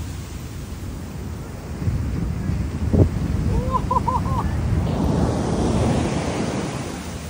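Ocean waves and surf at a beach where a river meets the sea, a steady loud wash with wind buffeting the microphone and a brief thump midway.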